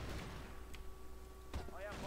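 A flashbang grenade in Crossfire 2.0 goes off as a single sharp burst partway through, cutting across a steady background of game noise.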